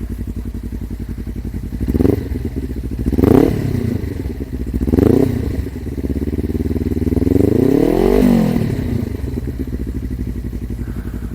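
A 2013 Suzuki GW250 motorcycle engine idles with a low burble, revved in several short bursts and then one longer rise and fall, heard close up.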